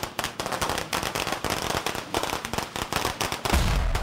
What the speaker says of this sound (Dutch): Ik heb vuurwerk meegenomen.